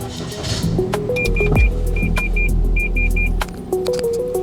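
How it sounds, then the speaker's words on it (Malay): Inside a Perodua Axia after an engine-noise reduction upgrade: a steady low engine hum, a short beeping chime repeating in groups, and an electric window motor whirring briefly. "bunyi dalam kereta selepas pemasangan"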